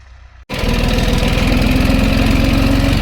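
A tractor engine in a farm field starts up after a brief quiet moment, then runs loud and steady with a rapid, even chugging pulse that stays close and constant to the end.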